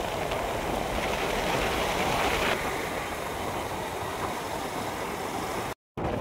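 Steady engine drone of the motorcycle Bagheera while being ridden, a broadband rumbling roar with wind noise that holds constant throughout, briefly cutting out near the end.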